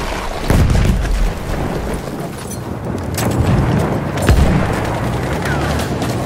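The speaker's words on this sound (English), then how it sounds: "Throwing a grenade, watch it!" In the Battlefield 1 video game, a thrown grenade goes off in a deep boom amid a loud, continuous battle soundscape with scattered gunfire.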